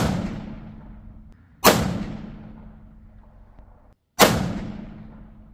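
Two sharp, loud rifle shots from a custom .338 Lapua Magnum at an outdoor range, each a hard crack followed by a long rolling echo, with a steady low hum between them.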